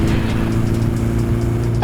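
A Volkswagen Golf R four-cylinder engine running, a loud, steady, even hum with a flat, level tone over the short stretch, and no voices.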